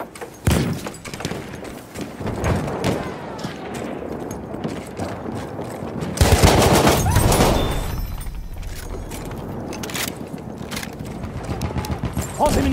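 Machine gun fire in a WWI shooter game comes in loud rapid bursts mixed with scattered gunshots and thuds, with a heavy sustained volley in the middle and battle noise throughout.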